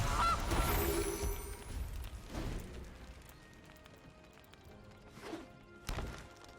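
Goose honks from the Gilded Goose card in the MTG Arena digital card game, a loud cluster at the start followed by fainter honking bursts over game sounds.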